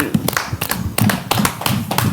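A few people clap close by, sparse and uneven rather than a full crowd, with distinct loud slaps and thumps in an irregular rhythm, no talk.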